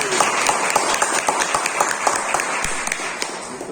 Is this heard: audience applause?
yes